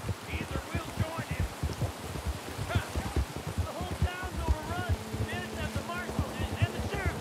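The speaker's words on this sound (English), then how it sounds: "It's raining, too." Steady Red Dead Online rain patters continuously while voices talk over it.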